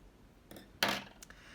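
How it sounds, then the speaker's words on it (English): Scissors snip through yarn while finishing a flower pin cushion craft, giving a short crisp cut with a lighter click just after, close and quiet in an otherwise still room. "I'm now going to cut off this yarn"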